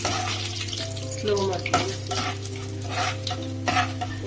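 Chana dal frying with mustard seeds in a pan for potato palya, giving a soft steady sizzle with light scraping strokes as it is stirred. Someone speaks briefly over the cooking, and a low hum runs underneath.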